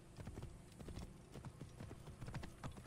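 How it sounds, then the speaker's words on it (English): Rhythmic clip-clop of a horse's hooves galloping in the Assassin's Creed Origins video game, a quick steady pattern of hoofbeats that carries on without talk. "Time to get on the horse."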